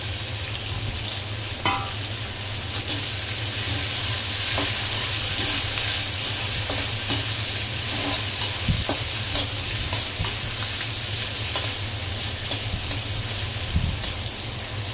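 Ginger and garlic fry in a pan with oil, giving a steady close sizzle and crackle, with occasional soft clinks of stirring and a constant low background hum, no speech.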